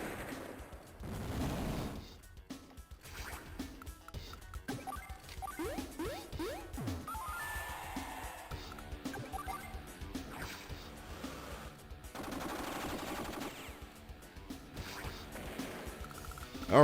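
Medium tanks being attacked in Advance Wars Dual Strike, with crashing impacts and crackling gunfire bursts in a busy, moderately quiet battle mix, with little speech.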